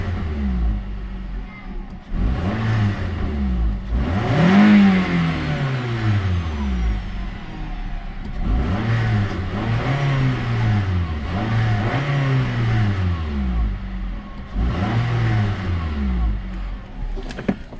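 A 2008 Nissan Rogue engine revs up and down repeatedly, close and loud, with a rattling shake running under the rising and falling engine tone.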